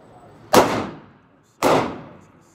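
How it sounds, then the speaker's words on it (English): Two sharp Glock 19 pistol shots, fitted with a Burris FastFire 3 red-dot sight, crack about a second apart, loud and close, each trailing a short echoing decay. "Shooting the Glock 19 with the Burris Fast Fire 3."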